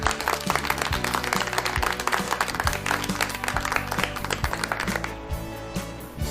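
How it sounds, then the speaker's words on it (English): Applause for a mathematics lesson broadcast on school radio, a dense burst of clapping over a steady tonal music bed, loud and continuous, thinning slightly toward the end. "give me a resounding round of applause"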